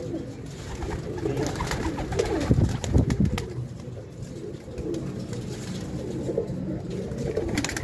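Many pigeons coo steadily in a dense, overlapping chorus close by, with brief scuffling and wing noise partway through.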